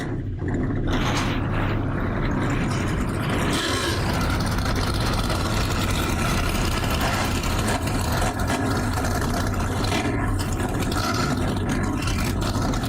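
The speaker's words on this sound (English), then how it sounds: "So, drivers, start your engines." Several NASCAR truck series race engines at Kansas rumble and idle together after the start command, a continuous loud low drone with rising revs, heard alone without speech.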